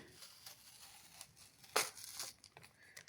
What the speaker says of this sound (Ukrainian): А, ми порвали пакетик.